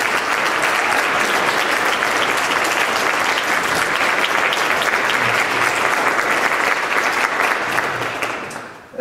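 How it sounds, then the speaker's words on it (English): Sustained, dense applause from an audience at an intercollegiate band concert, steady and loud for most of the stretch before tapering off at the very end, with no talking over it. "let's give them one more round of applause"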